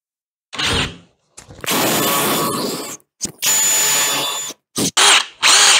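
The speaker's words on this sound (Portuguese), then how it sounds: "Então eu vou dar uma fundadinha aqui para marcar, para não escorregar minha broca fóssil. E outra aqui para eu poder fazer o furo." A power drill boring a hole in pine wood with a 4 mm bit, in several loud, close bursts of whining motor and bit grinding, separated by brief silent pauses.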